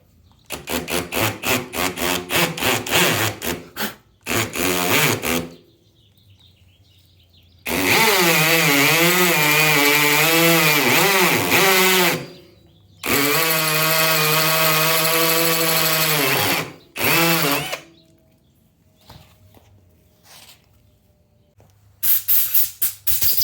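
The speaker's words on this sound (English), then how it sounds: "gonna do a quick pilot hole with a small Tapcon bit that I have" A hammer drill fitted with a small Tapcon bit bores a pilot hole into concrete, running in several loud, harsh grinding bursts of a few seconds each, separated by short silent pauses.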